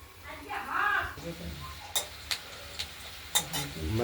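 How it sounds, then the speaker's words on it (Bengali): Chopped onion stalks frying in mustard oil in a pan, stirred with a utensil that clacks sharply against the metal a few times over a soft sizzle, while a person talks quietly. "ঢাকনাটা খুলে আরেকবার নেড়ে দিলাম আস্তে আস্তে ভাজা হোক"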